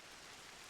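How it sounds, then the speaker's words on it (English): Steady rain hiss from Final Fantasy Tactics: The Ivalice Chronicles, a constant broadband wash of falling rain heard alone, faint and uniform with no voices. "It's raining."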